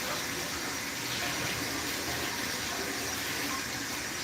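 Running tap water pours steadily into a sink while a turkey is rinsed for Christmas dinner, a constant hiss with no breaks and no voices.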